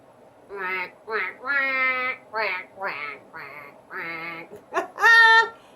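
A duck quacking loudly and close, a series of about eight nasal quacks in irregular bursts, each separated by a short pause.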